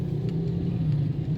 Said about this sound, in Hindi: रिक्शे, मोटरसाइकिल्स भी काफ़ी हैं इस वक्त।